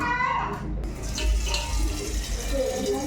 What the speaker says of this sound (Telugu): ఆ తర్వాత వేరే బౌల్లోకి ఎసరు తీసుకుంటున్నాము